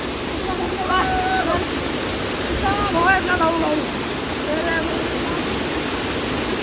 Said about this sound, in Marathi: आपण धबधब्याला पोहोचलो. तर धबधबा पाहू शकताय भावांनो.